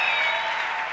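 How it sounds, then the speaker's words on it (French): Church congregation applauding during a French-language service, a dense, sustained burst of clapping heard up close and loud, with no talk over it. "est-ce qu'on peut applaudir bien plus fort que ça, faire exploser le plafond, s'il vous plaît?"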